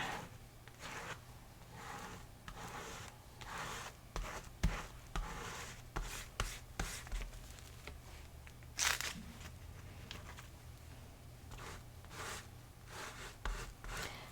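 A scraper drags leftover acrylic-style paint across a painting surface in repeated scratchy, rasping strokes, close and fairly quiet, with brief pauses between passes and no talking.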